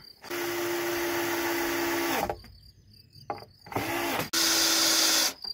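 A power screwdriver drives screws while a caravan shelter is built, with whining bursts of a few seconds each, close and loud, separated by short pauses and a brief final run.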